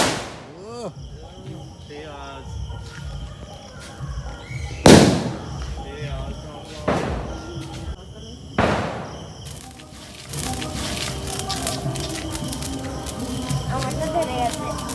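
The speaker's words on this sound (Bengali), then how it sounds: "এখন চারদিকে বাজি বাজি ফাটছে" Firecrackers bursting before dawn on Mahalaya morning: several loud, sharp bangs spaced seconds apart, nearby and distant, with voices talking between them.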